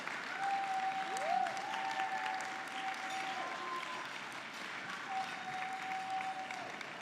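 Applause welcoming Joanne Kennedy Brown to the stage at a housing and economic development awards event: moderate crowd clapping spread evenly through the room, with a thin sustained tone and a brief gliding whine sounding over it.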